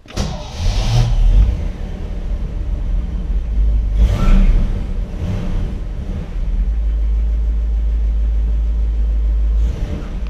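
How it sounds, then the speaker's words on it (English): A 1959 Chevrolet Bel Air engine rumbles loud and close while cruising Woodward, with a couple of revving swells early on, then a steady low drone throughout. "So we're going to take the Bel Air out for a ride"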